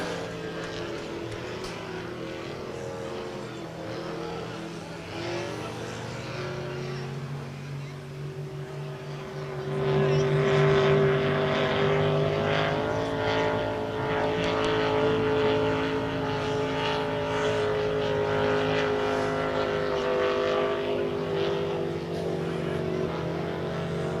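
Power boats race on a river at a Bundaberg race meeting, their engines droning steadily at a distance and then swelling louder as they draw nearer, with a commentator's voice over the roar.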